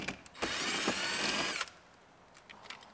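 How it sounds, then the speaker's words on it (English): A ratcheting wrench spins nuts off near a car's driver-side console: a close, continuous buzzing whir lasting about a second, then a few faint scattered clicks. "Ratcheting wrench is the easiest to get in there."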